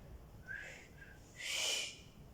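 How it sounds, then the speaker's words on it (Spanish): A person whistles in faint, high tones in short bursts, the last one louder and longer, with a quiet hiss underneath. "para darse valor empezó a silbar fuerte"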